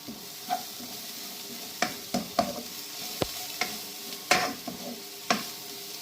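Cabbage thoran with grated coconut stirred in a pan, a spoon scraping and clacking in irregular near strikes over a faint steady sizzle, with no voices.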